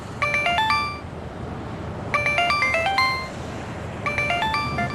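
A mobile phone ringtone plays an incoming call from the caller's mother, with a bright, chiming melodic phrase repeated three times at a steady interval over a soft background hiss.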